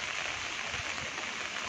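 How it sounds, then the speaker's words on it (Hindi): Heavy rain pours in Dharamshala as a dense, even hiss that holds steady throughout, with no voices over it. "तेज बारिश जो है वो यहाँ पर हो रही है।"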